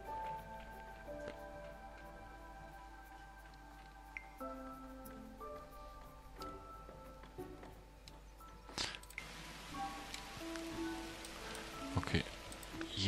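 Rain from a hurricane in the video game The Universim, soft pattering that builds into heavier rain on a surface, mixed with game ambience and tonal effects.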